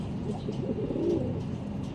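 A pigeon gives a soft low coo once, close by, in a loft of breeding pairs, over a steady background hum.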